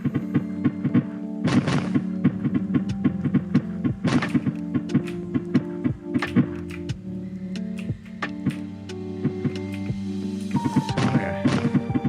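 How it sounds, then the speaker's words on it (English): Heavy booming blasts in the video game Lyca, with a few big broadband bursts over a steady backdrop of tonal game music and smaller thumping impacts. "That was a big explosion as well."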